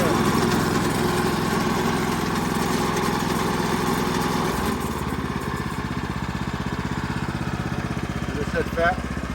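The small gasoline engine of a Woodland Mills HM 122 sawmill runs hard and steady at full throttle, loud and close, with a constant buzzing drone that shifts slightly in pitch midway while a voice talks faintly underneath.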